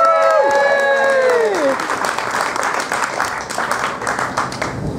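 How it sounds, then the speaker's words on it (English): Wedding guests at a reception applaud and cheer after a speech, the loud clapping rising as a final sustained note fades, then continuing as dense, steady applause with scattered cheers. "let's hear a big cheer for Diane."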